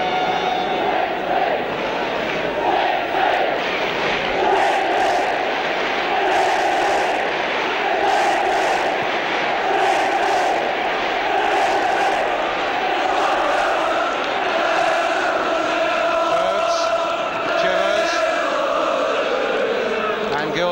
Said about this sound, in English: the crowd now, without too much to uplift them on the field, hoping that somehow they can inspire the players in this cup final